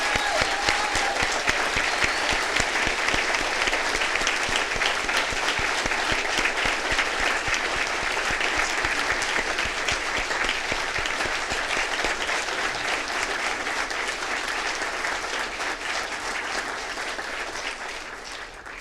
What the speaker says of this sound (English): And I'd like us to give a big round of applause to Agustin Andrade,